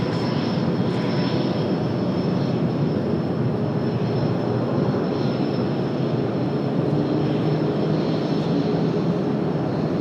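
A Falcon business jet takes off at Washington Dulles with a loud, steady engine roar that holds evenly across the whole stretch, broad and rumbling.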